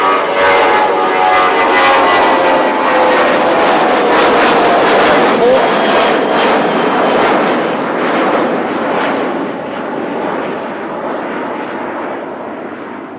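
Jetstar airliner taking off at Christchurch airport on a windy morning, a loud, broad jet roar that fades slightly as the aircraft climbs away, with no talking.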